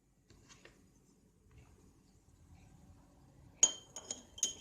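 Chopped onion going into a glass jar for a homemade cough remedy, giving a few sharp glassy clinks and taps near the end after a stretch of quiet rustling.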